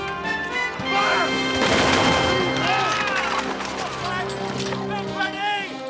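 A volley of gunfire from 19th-century soldiers firing on command: a loud, rough crash of shots that quickly fades into shouting and ringing tones.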